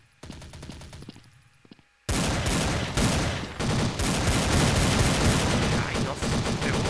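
Rapid automatic gunfire from the shooter video game Blood Strike, loud and dense, bursting in after two seconds of quieter game sounds and lasting to the end with brief dips.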